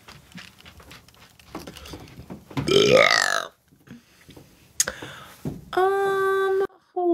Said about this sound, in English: I always love burping